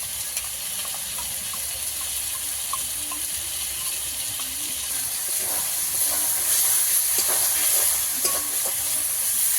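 A spice paste of chili, turmeric, black pepper and coriander fries in a pan for a country chicken curry, giving a soft steady sizzle with intermittent stirring scrapes close by.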